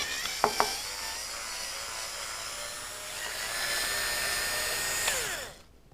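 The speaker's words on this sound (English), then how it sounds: "Take out the valve screws." Screws being backed out of a Tippmann 98 paintball gun, a steady whirring drive with a few sharp clicks near the start and a brief rise in pitch before it cuts off.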